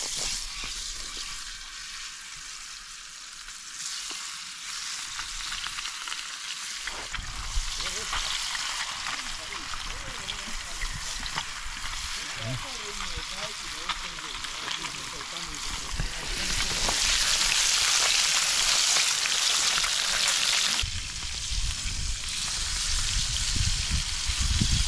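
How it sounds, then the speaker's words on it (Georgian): Fish frying in hot oil in a pan, a steady crackling sizzle that grows louder and brighter as the fish is laid in, with a person talking over it. "აი უკვე დავიწყებთ ტაფაზე თევზის დადებას."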